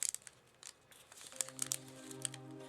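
Paper being folded into an origami crane gives soft, close crinkles and brief crisp crackles in scattered bursts, quiet and without talk.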